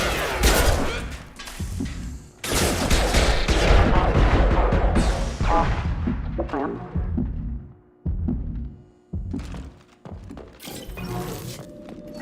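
Heavy gunfire and shattering impacts in the sci-fi shooter game Mass Effect 2, loud dense bursts with brief pauses and shouted voices among them.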